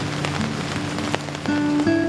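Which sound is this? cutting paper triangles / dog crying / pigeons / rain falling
rain falling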